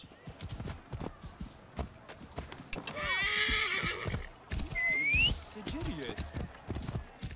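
A horse in Assassin's Creed Origins whinnies loudly mid-way amid clip-clopping hooves and game ambience, with someone talking over parts of it.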